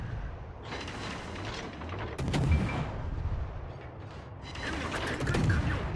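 Naval gunfire in a warship video game, booming shots and rumbling blasts with mechanical clanks, loud and dense over the six seconds.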